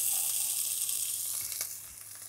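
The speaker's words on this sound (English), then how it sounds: "And we'll fry off 1 onion that's been diced." Diced onion fries in olive oil in a sauté pan, giving a steady, close, bright sizzle that eases off slightly toward the end, with no talking.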